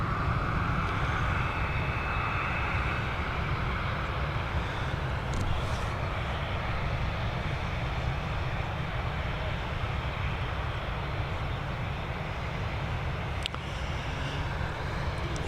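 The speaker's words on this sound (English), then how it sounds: "She's going to be followed straight out here by this Boeing 737" Boeing 737 jet departing Dublin Airport, a steady, loud broadband engine roar that holds for the whole stretch without fading, heard alone with no talk.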